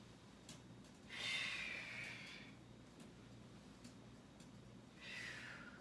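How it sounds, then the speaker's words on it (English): During an aikido family stretching class, two long, audible breaths rush out: one near the start lasting about a second, a second shorter one toward the end, over a quiet room background. "Keep taking some big deep breaths here."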